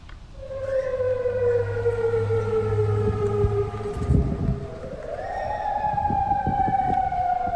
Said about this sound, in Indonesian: Sirine meraung di kota aman saat angkatan bersenjata Yordania mencegat serangan rudal Iran.